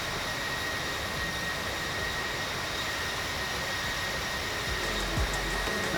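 Airliner jet engine sound from the Infinite Flight game plays as a steady, broad roaring whine with a faint high tone, constant and unbroken throughout.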